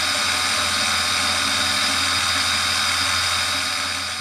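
A 6 mm end mill cuts an arc slot in a steel tool rest for a bench grinder: a loud, steady grinding whine that runs without a break.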